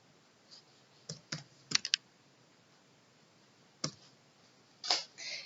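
A handful of sharp, sparse key clicks from a computer keyboard as a number is typed into a spreadsheet cell, heard close with quiet gaps between the presses.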